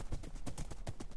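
Horse hooves clip-clop in the Minecraft video game, a quick, even series of close hoofbeats heard alone.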